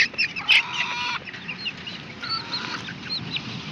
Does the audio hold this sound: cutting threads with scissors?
no